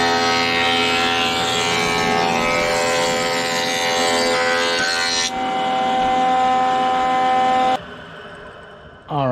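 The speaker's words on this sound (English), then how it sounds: "going to run it through the thickness planer to straighten the other edge, make it parallel to that one" A thickness planer runs the edge of a wooden board, a loud, close, tonal machine whine with a broad cutting roar that shifts in pitch partway through, then cuts off abruptly near the end.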